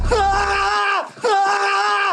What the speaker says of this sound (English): this trailer only had a handful of sound effects and a bunch of grunts and screams